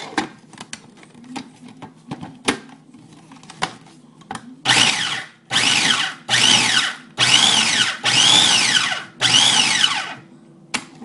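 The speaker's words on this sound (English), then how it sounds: "We're pulling out the food processor." A food processor chops onion for a sloppy joe recipe in a home kitchen, its motor roaring in about six loud pulses with short pauses between them, after some quieter clatter and handling noises at the start.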